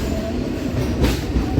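A MEMU passenger train pulls out of Makalidurga station on the Anantapur to Bangalore route, its wheels and carriages rumbling and clattering continuously from onboard, loud and close, with no talking.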